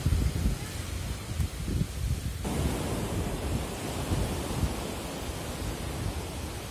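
Waves at Binasi Sorkam beach, a wide flat shore, wash in a steady broad hiss with soft rumbling surges, mixed with wind buffeting the microphone.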